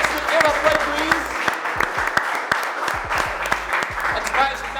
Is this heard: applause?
yes